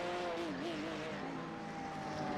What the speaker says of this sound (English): He's got the Martini Porsche 911 here working his way on by